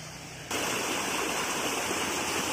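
A waterfall on the way to Bolumalai hill near Dharmapuri rushes in with a sudden loud, steady hiss of falling and flowing water that starts half a second in and stays constant.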